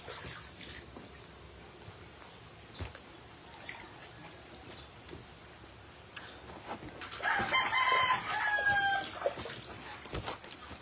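A rooster gives one crow partway through, fairly close and clear, against a low steady background of ambient noise.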